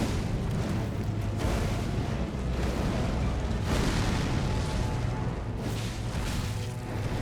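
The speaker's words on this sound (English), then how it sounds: "The explosion's huge anyway." A large explosion in the video game Elden Ring gives a loud, sustained, rumbling roar with booming bursts that fills the whole stretch, with no voices over it.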